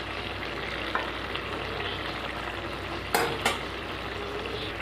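Steamed yardlong beans being stirred in a pan, a steady low sizzle with a couple of brief scraping clicks from the spatula, close and fairly quiet, no voices.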